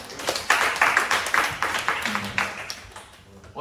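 A small group in a school classroom claps for a few seconds, a brisk close run of hand claps that fades out toward the end.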